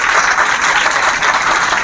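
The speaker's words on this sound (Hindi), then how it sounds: "जोरदार तालियां से" Loud, dense applause from students seated at a motivational seminar in a coaching class, steady and sustained throughout with no break.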